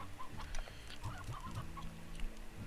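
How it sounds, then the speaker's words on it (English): A chicken in the video game Slime Rancher gives a few soft clucks over a busy, low game soundscape, moderately quiet and close. "Whoa, that chicken's ugly."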